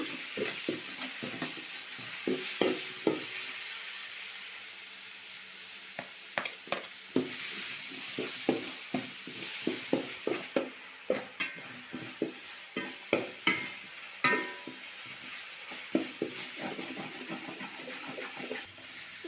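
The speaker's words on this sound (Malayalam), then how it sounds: "നല്ലപോലെ ഒന്ന് അതിൻ്റെ പച്ച മണം മാറുന്നത് വരെ ഒന്ന് ഇളക്കി കൊടുക്കാം" Ginger-garlic masala fries in a pan for mutton biryani, stirred with repeated scraping strokes in an irregular rhythm over a constant soft sizzle, close up and with no talking.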